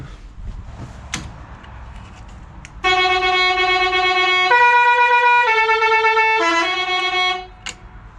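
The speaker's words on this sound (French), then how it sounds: "Ça klaxonne, pas très fort, mais ça klaxonne." A BMW E32 horn sounds in a steady, fairly weak tone for several seconds, with its pitch shifting a few times before it cuts off. Faint clicks and thumps come before it in a quiet garage-like setting.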